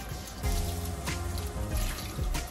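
Warm tap water runs steadily into a bathtub where a cat is being bathed, a close, continuous gush and splash with a slight surge partway through and no talking.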